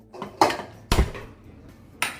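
A pressure cooker filled with some water is set down on a stove, giving three sharp metallic clanks spaced apart with brief rattles in between, close and fairly loud, no talking.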